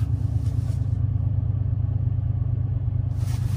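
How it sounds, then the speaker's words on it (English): An old wheel loader with a bucket pushes snow in freezing weather, its engine a steady low throbbing rumble at moderate distance, continuous and unbroken with no voices. "some old wheel loader with a bucket, just pushing snow"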